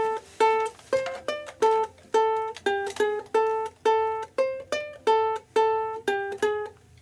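Plucked ukulele picking out a riff, bright, close notes in a quick, repeating rhythmic pattern, played alone with no voices.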